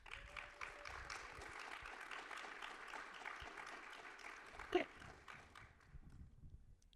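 An audience at a logistics and manufacturing panel applauds to welcome a panelist, a steady, moderately distant clatter of clapping that fades out at the end.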